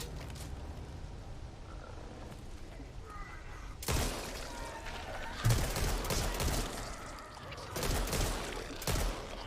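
Gunfire in a video game as the player shoots at a rock: three or four sharp, loud bursts of shots after a quiet opening, with brief pauses between volleys.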